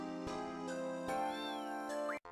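A cat meows in the video game Final Fantasy 8 over sustained in-game music. A short, rising mew comes near the end of the clip, with no talking.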